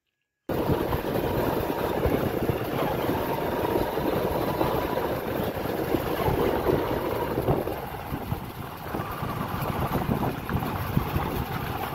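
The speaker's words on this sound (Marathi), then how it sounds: "तर मित्रांनो थोडी चालते रिक्षा, नंतर बंद पडते" An auto rickshaw engine drones continuously on a steep uphill climb, a steady mechanical rumble mixed with wind buffeting the microphone, dipping slightly in tone partway through; the rickshaw keeps stalling.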